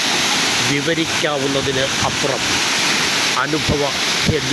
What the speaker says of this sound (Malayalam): വളഞ്ഞാനവട്ടം വാട്ടർഫാൾസ് പതഞ്ഞൊഴുകുന്ന വെള്ളത്തിൻ്റെ